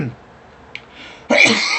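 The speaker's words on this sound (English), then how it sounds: "Morning cough." A single sharp morning cough bursts out abruptly near the end, loud and close, after a brief quiet stretch.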